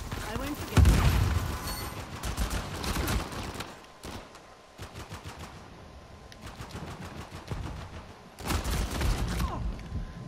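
Video game gunfire in Riviera: rapid automatic bursts and single shots, loud and close, stopping and starting, with a player talking over parts of it.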